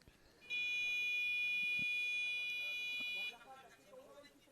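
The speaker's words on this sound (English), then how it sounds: "That's just the buzzer to inform them they're all 4 fouls." Electronic buzzer at a men's blind football match between Spain and Morocco at the IBSA World Games 2023, a single steady tonal blast of about three seconds, moderately loud over faint crowd and commentary.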